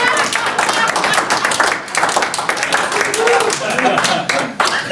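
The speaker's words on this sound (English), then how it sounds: "at least applaud for my wife" Audience at a stand-up comedy competition applauding steadily for the full stretch, a dense, loud wash of claps with no pause.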